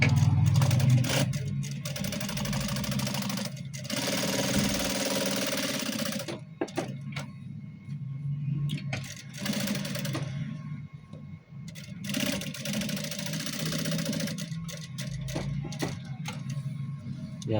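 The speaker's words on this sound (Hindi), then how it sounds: "इसकी डबल सिलाई हमने ब्रेक वाली लगानी है।" Sewing machine stitching a double shirt cuff in bursts: fast mechanical whirring runs of a few seconds each, separated by short pauses, fairly close and moderately quiet, with no talking.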